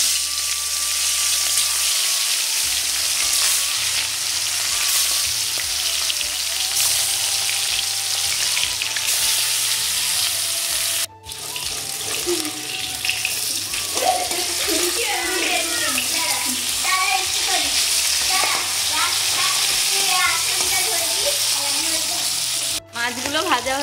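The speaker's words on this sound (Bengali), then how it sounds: "এবারে মাছগুলো ভেজে নেব।" Pieces of fish rubbed with salt and turmeric sizzle and spit steadily in hot oil in a wok, a loud continuous frying hiss for the whole stretch with brief crackles and bursts, close up, with a few faint clinks now and then.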